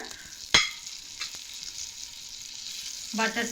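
Butter, about a teaspoon, melts and sizzles in a pan while semolina dough for pitha is started, with a soft steady fry hiss, a sharp clink near the start and a louder sizzle burst toward the end.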